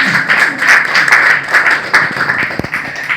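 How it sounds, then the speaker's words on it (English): Audience at a meet-and-greet with delegates from Scotland in New Delhi claps together, a brief burst of fairly loud applause with a few distinct sharper claps toward the end. "We can get a clap for that."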